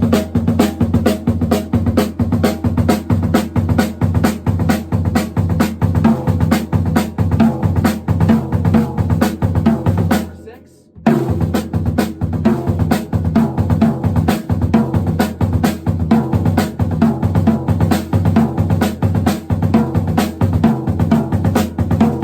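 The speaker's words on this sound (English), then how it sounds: "These are paradiddles, and it'll sound like this." Continuous drum kit practice of paradiddle sticking patterns worked against bass drum foot doubles, a steady dense stream of strokes with a brief pause near the middle, played alone without talk.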